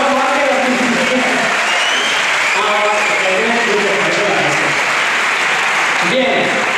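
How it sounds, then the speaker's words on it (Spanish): An audience at a band concert applauds two women, dense continuous clapping throughout, with a voice speaking over the start. "Un aplauso para ellas, por favor"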